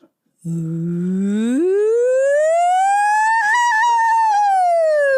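A single voice imitates a siren, gliding smoothly upward from a low hum to a high, sustained pitch.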